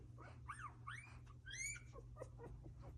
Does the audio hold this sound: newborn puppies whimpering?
yes